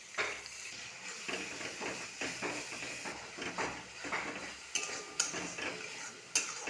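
A paste of ginger, garlic and green chili, with tomato, fries in a pan for a spicy boal fish curry, giving a soft steady sizzle with scraping and clinking of a spoon stirring against the pan.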